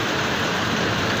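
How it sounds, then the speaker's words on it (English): Heavy rain in Port Harcourt, Nigeria, falling as a loud, constant wash of drops on surfaces nearby, steady throughout and free of speech. "It's raining heavily."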